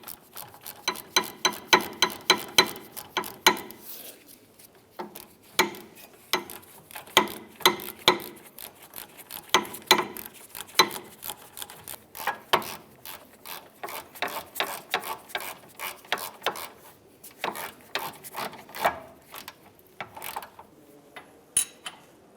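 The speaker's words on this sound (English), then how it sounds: "all I'm doing is I'm snugging these bolts down" A ratchet snugs down the wheel hub assembly bolts on a 2009-2015 Honda Pilot during a rear wheel bearing job, rapid close clicking bursts repeating over and over in short runs, with brief pauses between strokes.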